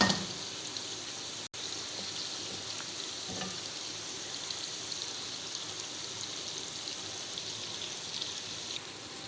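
Chicken pieces sizzle in spiced masala in a karahi, a steady crackling fry with occasional stirring scrapes, fairly close and continuous with no voices.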